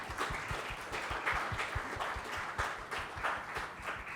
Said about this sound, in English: a big round of applause for both the parents